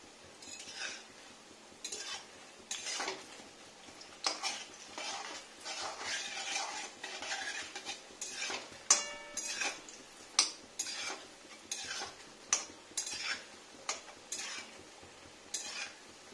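Arum pieces frying in a pan, a soft steady sizzle broken by repeated clinks and scrapes of a utensil stirring against the metal, fairly quiet and close, with no voices.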